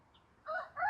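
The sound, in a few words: chickens clucking and rooster crowing on a local poultry farm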